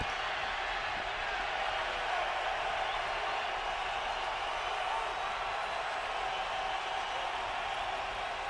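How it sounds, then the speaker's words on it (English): A stadium crowd at a 2009 NFL football game between Carolina and Tampa Bay makes a dense, steady roar that fills the whole stretch evenly and sounds distant and washed together. "And the crowd rises up."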